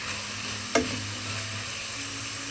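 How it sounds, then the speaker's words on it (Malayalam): Onions frying in a pan for a Kerala chicken curry, a soft continuous sizzle with one sharp clack of a spoon or lid near the start, close and without voices. "ഉള്ളിയൊക്കെ നല്ലതുപോലെ ഒന്ന് വഴന്ന് വരട്ടെ"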